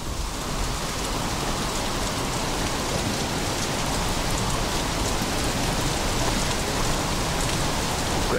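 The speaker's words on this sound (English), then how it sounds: "Don't stand out in the rain, fool." Steady heavy rain pours down on surfaces during a night outside a laboratory, a dense, continuous hiss that stays loud and even throughout with no voices.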